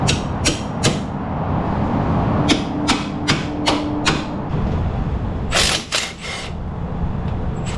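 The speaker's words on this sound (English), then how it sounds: "Anytime something won't cooperate, you get a hammer." Sharp metallic hammer strikes ring out in irregular bursts in an auto repair shop, several quick blows then pauses, close by over a steady mechanical background hum.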